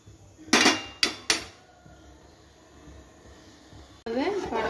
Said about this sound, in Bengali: একবার করে নেড়ে দিতে হবে।